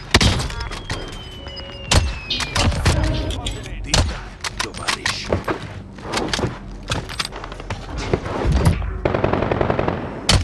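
Bullfrog SMG fire in a Rebirth Island video game match: dense, rapid bursts and single shots crackling close and loud, with thuds and a player's voice under the gunfire.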